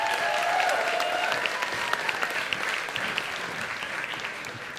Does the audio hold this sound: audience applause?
yes